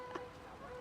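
A single short honk from a goose during spring mating season near a small island rises briefly over a steady outdoor background, faint and at some distance, with no talking.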